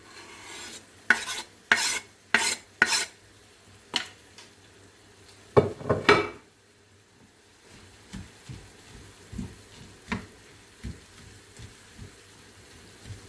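Meat with celery being stir-fried in a pan: a burst of sharp, loud spatula scrapes and clanks early on, a louder rasping stir mid-way, then softer, scattered scrapes over a quiet background.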